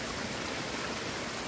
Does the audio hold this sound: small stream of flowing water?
yes